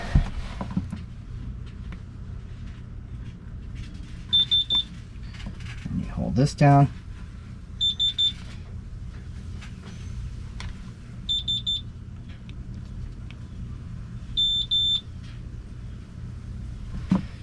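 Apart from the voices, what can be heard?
electronic transmitter beeping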